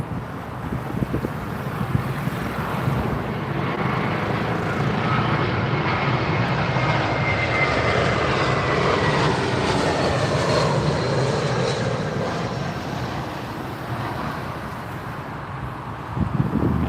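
A British Airways Airbus A320 arriving at London Heathrow on runway 27R, its engine roar steady and loud throughout with a slowly shifting tone as it passes, plus some wind noise.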